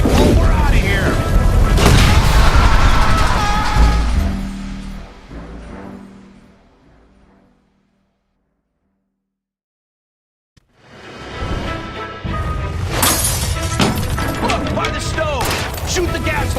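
A gas line blows up in the video game L.A. Noire: a loud, heavy boom and rumbling debris that fades into complete silence, followed by another loud, dense burst of noise. Voices may be heard in the mix.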